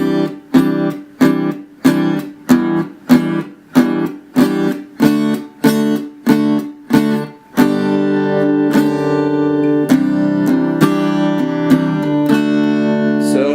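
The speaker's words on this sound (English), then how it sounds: "she's strumming the chord, and she's taking the side of her hand right there and hitting the strings with it" Rhythmic guitar strumming with short choppy strokes broken by palm-muted gaps, then the strumming opens into fuller ringing chords without the muted pauses; the guitar part of a song.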